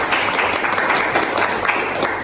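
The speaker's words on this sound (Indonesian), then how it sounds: "Mungkin aplaus untuk kita semuanya" Audience applause after a university teaching session on basic life support, a steady wash of many hands clapping that holds evenly from start to finish with no breaks.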